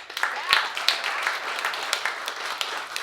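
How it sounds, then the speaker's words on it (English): A comedy club audience at Barrel Proof Lounge claps in a short, moderate burst of scattered applause, with a few voices mixed in. "clap your hands if you're a product of the public school system"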